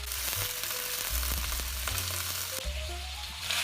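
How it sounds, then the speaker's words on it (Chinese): Yellow croaker frying in a wok with cooking wine, salt, sugar and soy sauce, a continuous close sizzle with low clunks and a rising tone partway through, no voices. "加入20克料酒、2克盐，加入2克白糖提鲜，加入15克生抽，"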